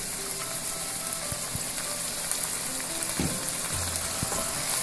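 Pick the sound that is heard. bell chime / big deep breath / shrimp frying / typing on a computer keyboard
shrimp frying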